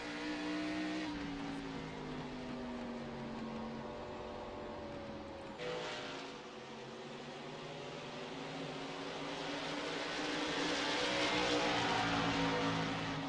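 Onboard sound from Acosta's race car at Lucas Oil Raceway, the engine holding a loud steady drone with pitch shifts through the corners and a brief dip midway, continuous for over ten seconds.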